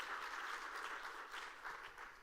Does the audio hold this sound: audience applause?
yes